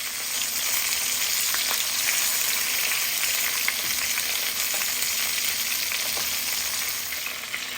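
Masala chicken pan-frying on its second side over a medium-low gas flame, a dense, even sizzle with occasional light crackles, close and steady, no voices.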